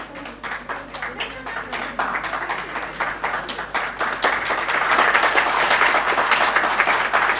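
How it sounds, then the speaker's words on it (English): Applause from an audience at a ceremony marking a road section built with technical-textile geocells, clapping that starts scattered and swells into a fuller, louder roar, with voices mixed in underneath. "Huge round of applause,"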